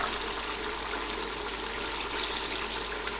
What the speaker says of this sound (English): I will add water in this chicken now.